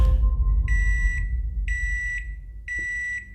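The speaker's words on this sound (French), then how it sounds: "La sonnerie du micro-ondes réveille une jeune hôtesse de l'air." A microwave oven's completion alert: three evenly spaced, bright electronic beeps, each about half a second long, sounding fairly close over a low background rumble.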